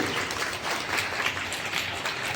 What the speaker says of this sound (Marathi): त्यांना या वेळेला आपण सर्वांनी त्यांच्या विचाराचं आपण टाळ्या वाजवून या ठिकाणी त्यांना धन्यवाद द्यायचे